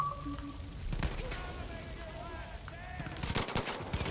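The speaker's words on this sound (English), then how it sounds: "Where am I getting shot at?" Bursts of gunfire ring out in the first-person shooter game Far Cry 5, scattered shots early and a louder rapid volley near the end, heard beneath a player talking.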